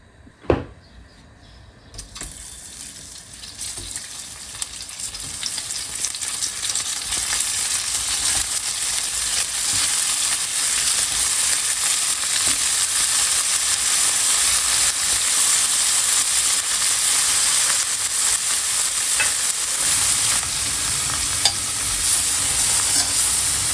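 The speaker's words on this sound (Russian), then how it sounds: "На разогретой сковороде мы подогреем с вами оливковое масло и выложим наш сыр." Halloumi cheese sizzles and fries steadily in hot olive oil in a pan, a continuous crackling hiss that starts with a clunk and builds, with no voices.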